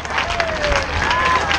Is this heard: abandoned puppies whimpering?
no